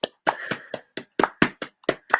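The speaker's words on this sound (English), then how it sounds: "Yeah, everybody's clapping." Sharp hand claps ring out one at a time in an uneven rhythm, about ten distinct smacks with short silences between, close and clear with no other sound.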